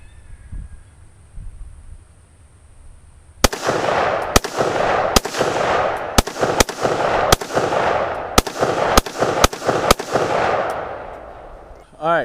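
An AR-15 rifle fires ten sharp, loud shots in an uneven sequence, each crack ringing out with a decaying echo, after a few seconds of quiet low rumble and faint noise.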